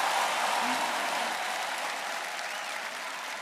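Sustained applause from a church congregation, steady and moderately loud, gradually thinning slightly toward the end, with faint voices mixed in.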